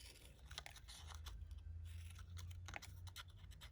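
Scissors snip through a flower petal for a gnome ornament, a quiet series of small crisp cuts and rustles close by, irregular and faint over a low background hum.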